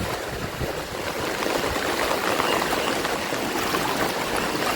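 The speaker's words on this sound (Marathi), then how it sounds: "आणि उताराला असल्यामुळे पूर्ण पाणी भरलं आहे सोसायटीमध्ये" Floodwater rushes steadily through a housing society during heavy rain, a dense, continuous roar of flowing water with no pauses.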